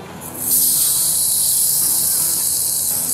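Shrimp hit a hot pan seasoned with red chili flakes and paprika, setting off a loud, steady sizzle that swells within the first half second and holds hissing and bright without a break.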